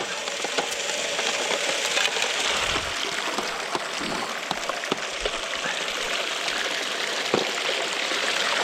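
Water rushes steadily through a sluice box set in a creek during gold prospecting, a close, continuous splashing flow with no voices.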